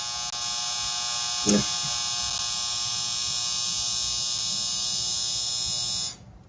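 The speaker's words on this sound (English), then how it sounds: "Dryer's done." A clothes dryer's finished buzzer drones steadily for about six seconds at an even pitch, then cuts off abruptly, with a brief faint thump partway through.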